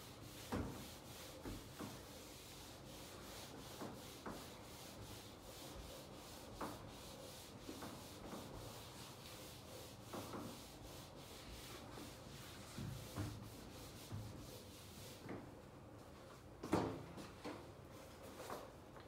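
Chalk being rubbed off a classroom board during a trigonometry lesson, a steady quiet scrubbing with soft repeated strokes and occasional light knocks, heard alone without talk.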